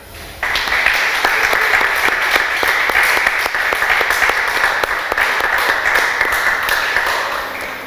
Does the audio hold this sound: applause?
yes